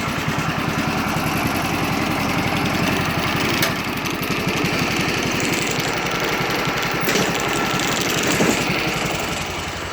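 Wheel Horse garden tractor engine running hard and steady while its tires spin trying to pull a Jeep, a loud continuous mid-pitched small-engine drone with rapid pulsing and no talking.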